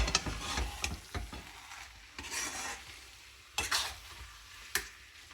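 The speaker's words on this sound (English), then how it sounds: "now let's mix it all up and give it a minute" Vegetable pulao being stirred in a pan, repeated scraping and clattering strokes of a spoon against the metal over a soft background sizzle, close and intermittent, with no talk.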